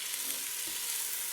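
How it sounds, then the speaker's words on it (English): Vegetables and chicken browning in a pan for chicken noodle soup, a steady, close hiss of sizzling fat with faint stirring underneath. "I even just throw the veggies right on top as they're browning underneath"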